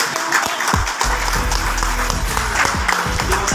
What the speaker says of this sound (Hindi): इनके लिए ताली बजा दीजिए एक बार